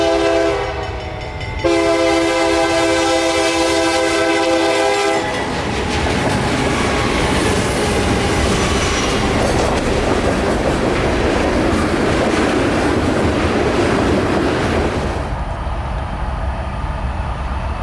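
Freight train hauled by old locomotives passing close by, a long loud horn blast at the start followed by a steady roar and rumble of wagons that fades slightly at the end.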